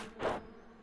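Bees buzzing in the video game Escape Academy, a short faint swell of insect drone that rises and fades within a second.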